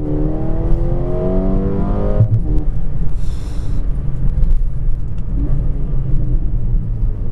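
A 2023 Mercedes-AMG A35 4MATIC hatch exhaust in Sport Plus mode rumbles deep and loud, revving with rising tones before settling into a throaty idle burble.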